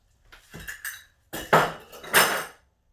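A panko breading mix being stirred in a bowl: a few sharp clinks and scrapes of a utensil against the bowl, coming in two or three bursts, close and fairly loud, with no voices.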